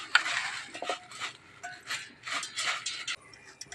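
Beaten rice (poha) is stirred by hand with jaggery and grated coconut in a bowl, giving soft, irregular scraping and rustling strokes with light clinks, close and fairly quiet, with no speech.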